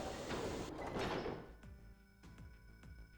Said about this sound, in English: On Junpei's signal, they both pushed and the gate cracked.